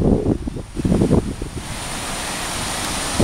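Wind and surf on Surfside Beach, Texas: gusty wind buffeting the microphone in the first seconds, settling into a steady broad wash of waves rolling in, loud and continuous with no talk.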